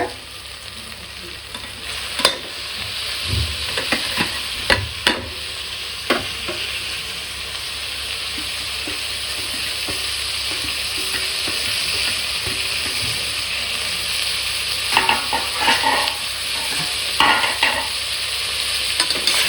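Tomatoes sautéing in a pan for chicken biryani give off a steady loud sizzle, with scattered spoon scrapes and knocks against the pan, most frequent near the beginning and again toward the end.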